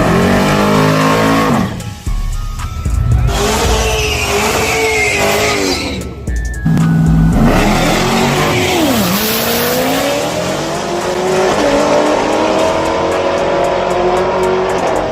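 A race car on a hood track revs hard and loud, engine pitch sweeping up and down through repeated bursts with tire squeal, close and dominating the whole stretch.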